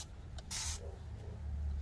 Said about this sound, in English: I'm spraying slow now